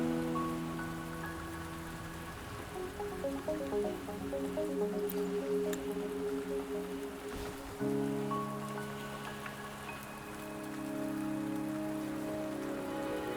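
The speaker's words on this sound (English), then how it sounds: "Don't worry, the rain won't last much longer." Soft video game rain patters and drips steadily across the scene from Wuthering Waves, a fairly faint wash with scattered droplets, layered under gentle sustained music tones and no speech.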